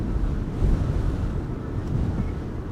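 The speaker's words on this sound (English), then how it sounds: "The wind is relentless." Strong, relentless wind at Amsterdam Schiphol Airport buffeting the microphone, a loud continuous low rumble and roar with gusty swells and no talk.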